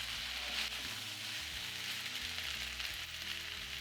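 Chicken, potatoes and cauliflower sizzle and fry in a pan while being stirred, a steady close crackle with low scraping and shifting underneath, continuous throughout.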